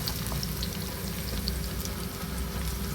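Onions frying in oil in a wok over high heat while being stirred, a steady close hiss and crackle with small pops, continuous and even throughout.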